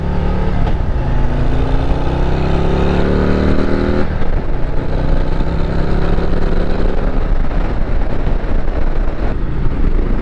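A Harley-Davidson motorcycle riding onto a freeway gives a loud, continuous engine drone that rises in pitch as it accelerates, then settles into a steady roar mixed with heavy wind rush; no one speaks.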